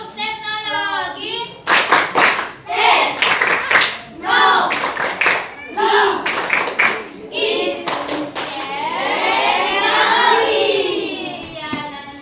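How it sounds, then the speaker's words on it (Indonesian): Classroom group doing a rhythmic clapping chant during an ice-breaking activity, bursts of hand claps in patterned sets alternating with spoken cues from a teacher and children's voices, fairly close and lively. "Iya, satu kali lagi. Tepuk teknologi."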